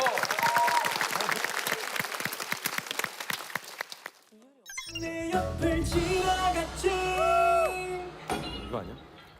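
Audience claps along in a steady rhythm to a hit dance song with a deadpan choreography, the beat dense and loud for the first four seconds, then giving way to music with singing and voices.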